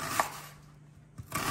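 A knife cutting fish for an Andhra fish curry, with two short, close cutting bursts separated by a near-silent pause.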